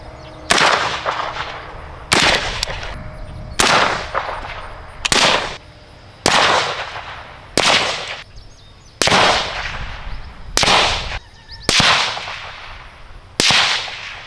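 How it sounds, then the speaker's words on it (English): Ten loud suppressed rifle shots from a Mark 18 with a JMac Customs Banka suppressor firing 223 ammo, spaced about every one to two seconds, each a sharp crack with a short decaying tail. "So there we have the JMac Banka on the Mark 18 with some spicy 223."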